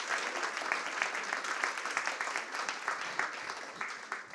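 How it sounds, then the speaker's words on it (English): A fairly distant audience applauds after a poetry performance at a book festival event in Manchester, a dense and steady patter of clapping that holds throughout. "Can we give another round of applause to Joseph?"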